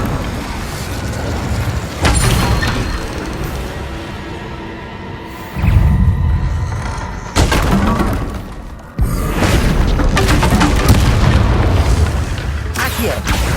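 Spell effects from Hogwarts Legacy gameplay, including a fire spell, burst out in loud booming and shattering impacts, several sharp hits with rumbling tails across the stretch.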